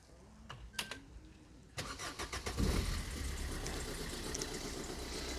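A van engine cranks with a few quick turns, catches and fires up, then settles into a steady idle, close and moderately loud, with no voices.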